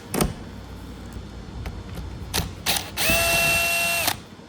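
Phillips screws removed from a 2024 Toyota Tacoma interior during a seat upholstery install, with scattered clicks and ratcheting, then a loud buzzing whir from a power driver lasting about a second near the end.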